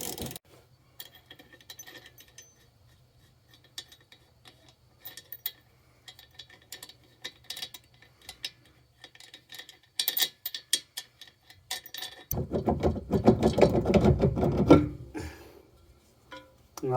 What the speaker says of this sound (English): if you put a ratchet on and you hold this with one hand and give it some taps